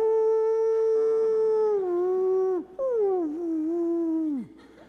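A person imitating a wolf howling delivers a long sustained howl with a gliding pitch, breaking briefly and then resuming with falling, wavering tones before dropping away; loud and close, alone with no other sounds.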